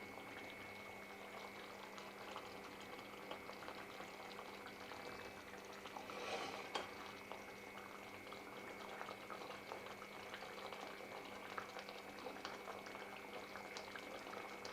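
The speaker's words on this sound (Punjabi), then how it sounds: "ਇਸ ਤਰ੍ਹਾਂ ਗ੍ਰੇਵੀ ਪਾ ਦਈਏ" Gravy pours over an omelette in an omelette curry cooking in a pan, with a steady low bubbling and sizzle running throughout and a brief louder splash partway.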